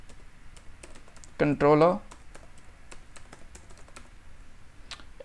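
Steady light tapping on a computer keyboard while writing Laravel 8 code, close and fairly quiet, with a brief spoken word in the middle.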